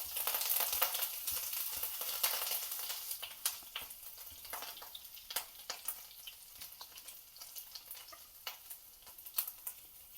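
Ghee tempering with asafoetida and grated ginger sizzles and crackles in a pan: a busy hiss, strongest at the start, then settling into steady sizzling with sharp pops and spits, and no voices.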